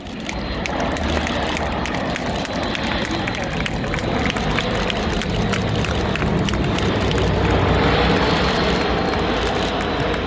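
An Airbus A400M military transport aircraft maneuvers low and slow at an air show with gear and flaps down, giving a loud, continuous turboprop roar that stays steady throughout amid faint crowd noise.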